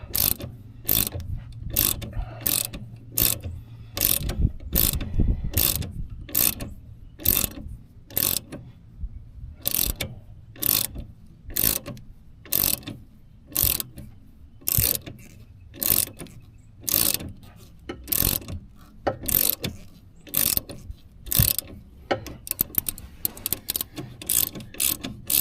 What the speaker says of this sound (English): Snug this one up, then I'll tighten them both down real good.